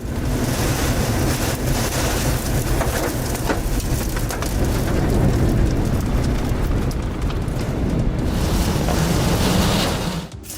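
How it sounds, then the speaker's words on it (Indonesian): A major storm lashes Panama City beach in October 2018, heavy rain and pounding surf merging into a loud, unbroken roar with gusting wind throughout. "bencana badai besar yang menghantam pantai Panama City pada Oktober 2018 lalu"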